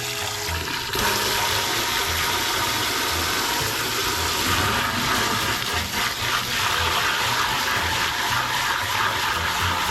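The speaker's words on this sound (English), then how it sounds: "Wash off the pan." Running water gushes steadily from a tap as a pan is rinsed under it, a loud continuous splashing rush with faint clinks throughout.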